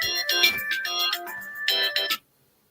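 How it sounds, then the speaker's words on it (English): Phone ringtone playing a bright repeating melodic pattern in bursts, fairly clear and alone, then cutting off abruptly near the end. "Stop your phone from ringing so I have it in my show, please."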